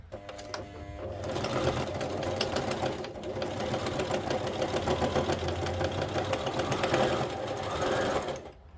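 A sewing machine runs steadily in a zigzag stitch across a fabric garden path, a dense continuous mechanical whir close by that pauses briefly once, then keeps going with no talking.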